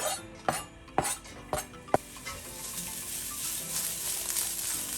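Spring onion and garlic fry in a pan, giving a steady soft sizzle. Four sharp clinks of a utensil against the pan come first, and the sizzle carries on alone.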